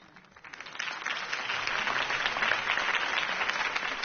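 A crowd bursts into applause in the video game Batman: The Telltale Series, rising quickly from quiet to a dense, sustained clapping that stays loud and even to the end.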